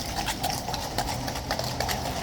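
Horses' hooves clip-clop at a King's Guard parade as regular, moderately loud beats over a steady outdoor background hum.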